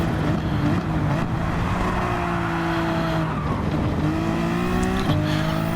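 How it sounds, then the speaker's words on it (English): In a racing video game, a Gr.4 race car brakes into a turn and its tail slides out, with tires squealing over a steady, droning engine note that shifts pitch as the car scrubs through the corner. "braking while turning, got the tail kicked out"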